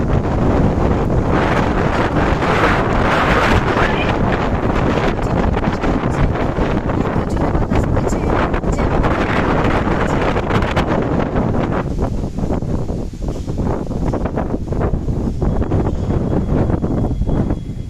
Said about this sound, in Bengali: জোরে বাতাস বইছে।